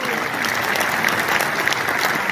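An audience at a Hindi humorous poetry gathering in Hisar breaks into steady, dense applause, a continuous close wash of clapping hands lasting the full couple of seconds with no talk over it.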